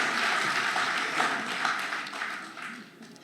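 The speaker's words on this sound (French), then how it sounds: "Et je demande quand même un tonnerre d'applaudissements pour Takia et pour son apport à la réalisation de ce" Applause from an audience at a poetry tribute, a moderately loud patter of many hands that thins and fades gradually toward the end, with no voices over it.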